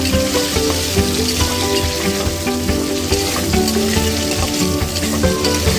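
Cashews and raisins frying in a pan for white kuska rice while being stirred, a continuous loud sizzle with scraping stir sounds, close and alone.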